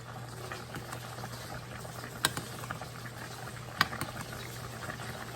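Chicken liver simmering in adobo sauce in a pot, a soft steady bubbling and faint crackle with a low hum behind it, plus a couple of small sharp clicks.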